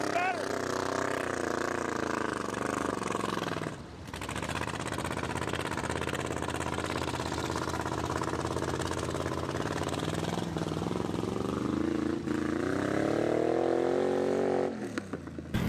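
A 1956 Pontiac 3/4 ton mud truck engine runs loud and close, droning steadily and then climbing in pitch as it revs higher toward the end, with voices talking over it.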